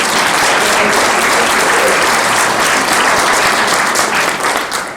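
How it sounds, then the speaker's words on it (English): Loud, sustained applause from a crowd at a State of the City address in Spring Hill, steady clapping filling the whole stretch with a slight fade near the end. "that's worth some applause right there."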